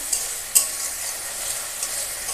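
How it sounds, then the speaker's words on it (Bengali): Turmeric and spice masala fry and get stirred in a pan for a fish dish, a quiet continuous hiss with a couple of small ticks from the spoon. "মশলাটাকে কষাচ্ছি অল্পই কষাবো সামান্য"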